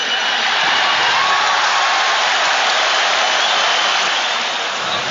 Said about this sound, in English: You'll hear it from the crowd.